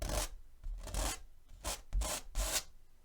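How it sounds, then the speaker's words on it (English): Firm strokes of a palette knife scraping oil paint off a canvas, about five distinct rasping passes in an uneven rhythm, close and clear with short pauses between them. "You can probably hear how firm, just how firm I'm scraping that."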